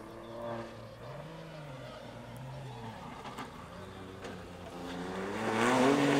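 A Renault Clio 4 rally car races along a stage at the Rally de Melo, its engine revving and shifting at a distance and then surging louder near the end, under continuous commentary.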